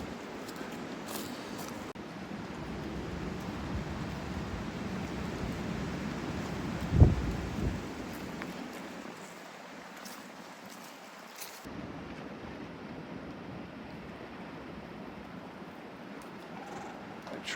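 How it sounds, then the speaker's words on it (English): Wind gusts across an open field at an old homestead, a steady low buffeting roar on the microphone with one sharp bump midway, easing to a quieter rush before building again. "hopefully the wind isn't too bad"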